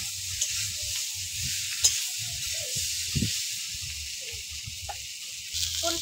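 Vegetables, including papaya, sautéing in a pan for a light Bengali fish curry, giving a steady close sizzle with occasional stirring scrapes and small pops.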